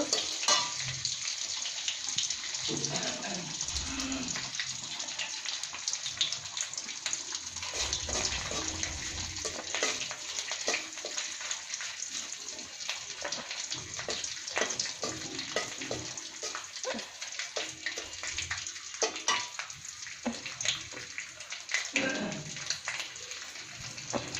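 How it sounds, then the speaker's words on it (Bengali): Vegetables with dried fish fry in a pan, a steady hissing sizzle that runs the whole time at a moderate level, with occasional soft stirring scrapes. "ভালো করে ভেজে নেব"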